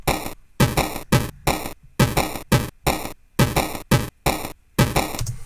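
Drum loop run through Ableton's Redux bit-crush effect, a crunchy, gritty pattern of loud repeated hits with sharp gaps between them, alone and without talk.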